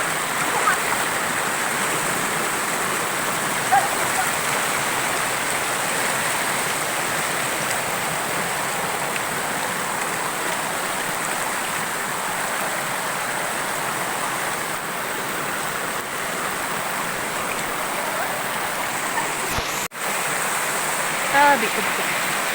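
Strong stream water flows steadily and loudly at close range in a river where snails are being gathered, a continuous rushing wash throughout with a brief knock near the end.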